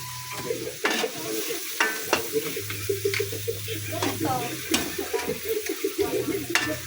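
Lobster pancit is stir-fried after soy sauce goes in, with steady sizzling broken by repeated scraping clinks of a spatula against the pan, a voice talking faintly underneath.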